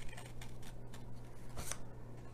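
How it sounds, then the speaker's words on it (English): Large scissors snipping through felt while shaping a poinsettia flower gift box, a few soft crisp cuts close by over a steady low hum, with one sharper snip near the middle. "let me get my bigger scissors"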